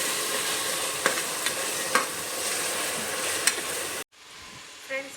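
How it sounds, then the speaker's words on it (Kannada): Tomatoes with salt sizzle steadily in a pan for veg pulao, with a few soft clicks of stirring over the hiss before it suddenly drops to quiet near the end. "ಉಪ್ಪು ಹಾಕ್ಕೊಂಡು ಸ್ವಲ್ಪ ಬಾಡಿಸ್ಕೊಳ್ಳೋಣ."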